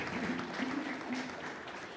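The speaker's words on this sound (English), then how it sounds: "All right, clap for them." An audience claps for presenters at a technology and customer experience event in Kenya, steady scattered applause filling the short moment under a faint tonal murmur.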